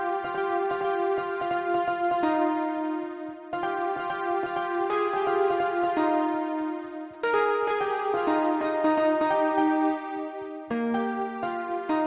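Fortnite music blocks play a melody as a clean, steady synth tune, with its phrases changing notes every couple of seconds and no voices.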